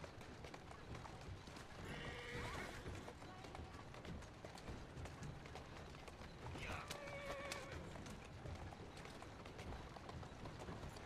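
Horse whinnies ring out twice over rhythmic hoofbeats at a trot, with a busy background of game ambience from Assassin's Creed Syndicate.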